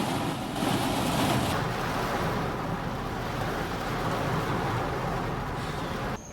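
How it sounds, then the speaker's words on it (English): Steady rain falls outdoors, a loud and continuous broadband hiss with no voices, easing slightly after the first second or so. "It started raining."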